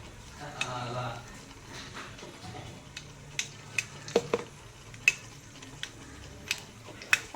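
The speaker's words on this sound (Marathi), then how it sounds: "मोहरी चांगली आपली तडतडते." Mustard seeds crackling in hot oil in a kadai, giving sparse, sharp pops at irregular intervals over a quiet background, with a faint voice briefly near the start.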